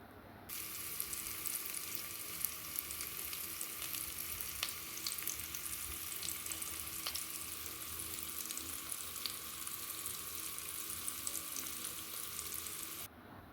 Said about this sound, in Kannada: ಒಂದು ಕಡೆ ಫ್ರೈ ಮಾಡಬೇಕು ಚೆನ್ನಾಗಿ ಫ್ರೈ ಆಗತ್ತೆ ಇದು ಐರನ್ ಕಡಾಯಿ ಆಗಿರೋದ್ರಿಂದ ಐರನ್ ಪ್ಯಾನ್ ಆಗಿರೋದ್ರಿಂದ ಬೇಗ ಕುಕ್ ಆಗುತ್ತೆ